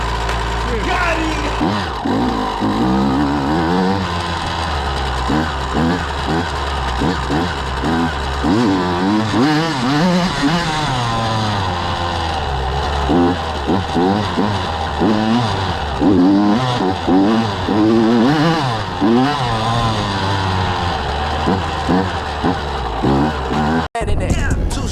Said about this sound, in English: Two-stroke on the street.